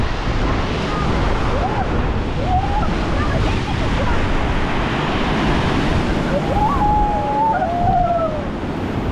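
Strong storm waves break on the shore at Divnomorskoye, a continuous loud roar of surf and spray with wind buffeting the microphone, while people talk over it close by.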